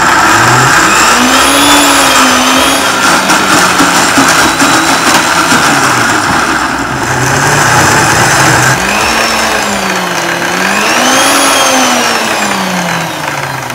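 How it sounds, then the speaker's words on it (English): A countertop blender whirs through chillies for sambal, its motor loud and close, rising and falling in pitch as it strains against the thick paste. "So I'm just going to start to blend them."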